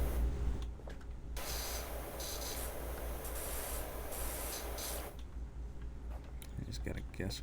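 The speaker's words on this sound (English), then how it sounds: "I just gotta guess where I'm spraying. Hopefully it's hitting it." A pressure washer sprays in the cleaning game PowerWash Simulator, a steady loud hiss that runs almost nonstop with brief shifts in tone as the nozzle moves, while a person talks over it.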